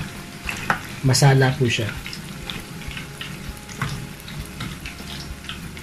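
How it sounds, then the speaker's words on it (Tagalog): Cauliflower fries in hot oil for crispy fried cauliflower, a soft, steady sizzle with a few louder clatters and stirring knocks, under someone talking. "ang pagluluto po pala ng crispy fried cauliflower"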